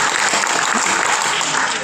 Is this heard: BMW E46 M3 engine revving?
no